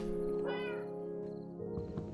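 Cats meowing in a video game, a drawn-out tonal meow that rises and bends and then trails off, followed by a shorter second cry over a steady background drone.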